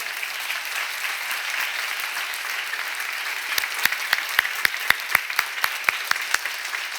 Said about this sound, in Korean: 박수 좀 쳐줘라.